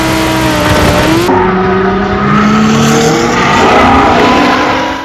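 A supercar braking hard at speed on a track: a loud, close engine roar with tire noise drops sharply in pitch as the car slows, then settles into a lower, continuous engine drone.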